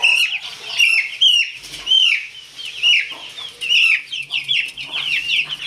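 Young chicks from a small backyard brood cluck and squawk in rapid, overlapping bursts as one of the biggest is caught and lifted, with wing flaps between the calls, close and loud throughout.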